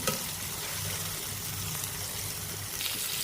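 Small chopped onions with curry leaves and a pinch of salt frying in a pan, a steady close sizzle with faint stirring, no voices.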